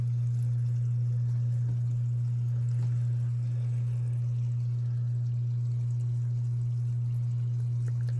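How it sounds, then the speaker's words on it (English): A waterfall spray booth runs with its fans off, giving a steady, even hum and a soft wash of falling water that holds unchanged throughout, with no voices. "Listen how quiet that is with just the waterfall."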